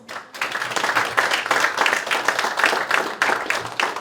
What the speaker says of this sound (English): So if we could give Walkman another round of applause.